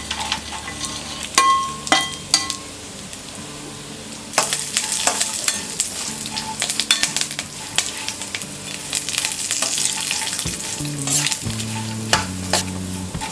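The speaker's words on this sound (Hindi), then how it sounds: "इसे 2 मिनट तक फ्राई करेंगे।" Roasted dry coconut pieces frying in a pan for spicy masala makhana snack mix, crisp sizzling with repeated scraping stirs and clinks of a spoon, fairly loud and close, with faint tonal background music.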